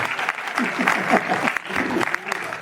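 Audience clapping at a traditional nautanki folk theatre show, a dense, steady burst of applause close by, with a voice speaking over it.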